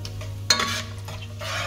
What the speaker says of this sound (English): Just let them roast for 10 to 20 seconds.